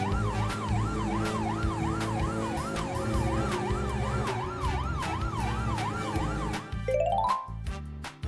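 Disaster response truck siren wailing in a steady rising and falling cycle over engine rumble and horn blasts, close and loud, ending with a quick upward whoop sweep.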